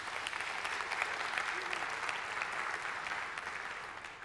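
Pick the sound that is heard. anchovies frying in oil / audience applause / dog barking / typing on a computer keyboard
audience applause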